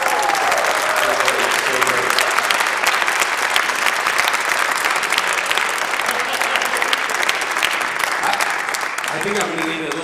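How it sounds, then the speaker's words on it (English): A big round of audience applause for Dr. Stevens at a spirituals sing, dense and sustained clapping filling the whole stretch without a break, loud and close, with a voice faintly audible near the end. "I think we should give Dr. Stevens a big round of applause"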